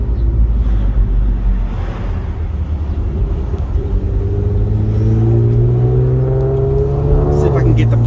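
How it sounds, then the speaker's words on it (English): A car fitted with PPE catless downpipes while driving, its engine a loud, steady drone with rising whine, and a turbo spooling down near the end. A voice talks over it. "Listen to that turbo"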